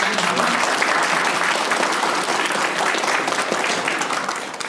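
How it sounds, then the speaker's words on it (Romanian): An audience at a Christmas carol concert in Rome claps in a dense, loud, continuous burst of applause that stays steady and close throughout, tapering slightly at the very end. "Doamna Angel Sonia, vă aplaudați."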